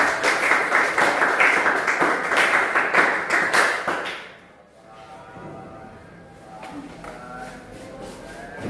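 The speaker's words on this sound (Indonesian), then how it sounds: "Kasih aplaus untuk kelompok." Applause from a classroom audience after a student group's presentation in a teacher training session, dense and loud for about four seconds, then quickly dying into quiet room noise with faint shuffling.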